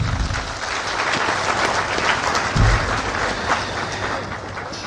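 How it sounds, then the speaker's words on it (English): A crowd at a memorial event for President J.E.A. Atta Mills gives a loud, dense round of applause, continuous and close, with no voices over it. "Ladies and gentlemen, another round of applause for him."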